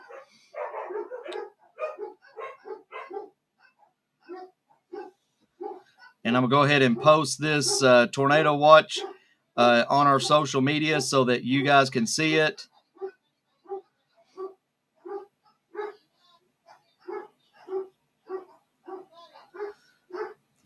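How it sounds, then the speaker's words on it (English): Dogs bark indoors in a wild, rapid flurry of loud yips and barks for several seconds during a dangerous Kentucky tornado-threat storm, with someone talking before and after the outburst. "Apologize for my dogs. They get wild when the weather gets wild."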